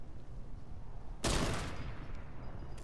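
A single loud, sharp burst of gunfire in Fortnite cuts through a steady game background, with a short decaying tail afterward.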